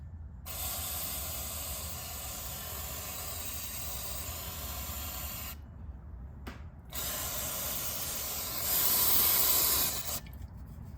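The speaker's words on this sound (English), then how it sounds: "I'm gonna get some Scotch-Brite, a little bit of brake clean, and see if we can get all that residue off that plate" Brake cleaner is sprayed onto a snowblower plate in long, steady hissing bursts, broken by short pauses, with one louder burst near the end.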